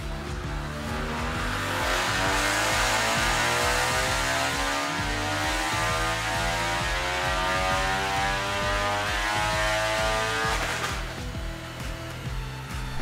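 A Ford Focus RS engine revs hard on a two-wheel drive dyno, a loud sustained roar climbing steadily in pitch for several seconds before easing off, with no talking.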